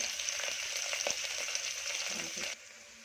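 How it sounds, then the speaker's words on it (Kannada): Onion and curry leaves frying in hot oil for puri sagu, a bright steady sizzle with light stirring scrapes, close and moderately loud, cutting off abruptly near the end. "ಕರಿಬೇವು ಒಂದು 2 ಹಾಕ್ಕೊತಾ ಇದ್ದೀನಿ. ಚೆನ್ನಾಗಿ ರೋಸ್ಟ್ ಆಗಲಿ."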